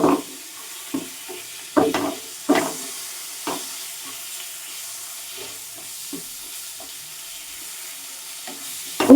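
Spice masala with tomato is stirred in a pan under a quiet continuous fry, with irregular clear scrapes and clacks of the spoon against the metal standing out over a low sizzle, close by and with no talking.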